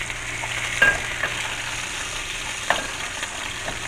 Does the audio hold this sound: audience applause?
no